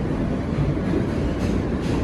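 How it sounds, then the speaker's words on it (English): A New York City subway train bound for Queens Plaza gives a loud, steady, dense rumble that fills the whole stretch without a break. "That was the subway this morning, everybody."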